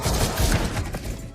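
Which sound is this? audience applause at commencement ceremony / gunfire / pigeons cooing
gunfire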